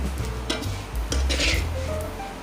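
Grated coconut roasting in a pan is stirred with a spoon, giving soft scraping and occasional metallic clinks over a faint sizzle, close and continuous with no voices.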